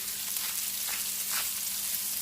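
Vegetables sear in a pan over medium-high heat, a dense, even sizzle that fills the whole moment, loud and close with small crackling swells and no talking.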